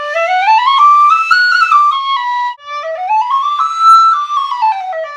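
Tin whistle melody played solo, clear and bright with smooth slides between sustained notes in two rising and falling phrases, close and loud with a brief breath break midway.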